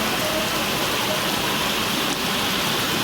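Heavy rain falling steadily during a road trip near Jaipur, a loud, continuous hiss of downpour with no pauses, talk or other distinct sounds.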